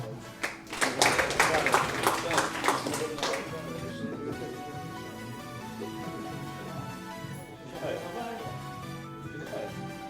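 A quick burst of audience clapping after a strong shot in a Polish match for the gold medal, rising fast and fading over a few seconds before a voice carries on over a musical backdrop.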